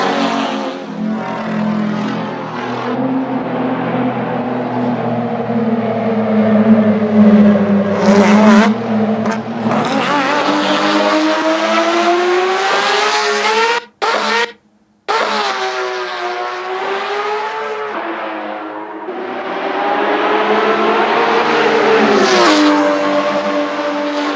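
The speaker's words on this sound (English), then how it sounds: "I think it's a Porsche 2016 SRS." A Porsche sports car engine revs loudly and steadily, its droning tone climbing and easing as it drives, with a brief cut-out midway before the roar returns; no one speaks.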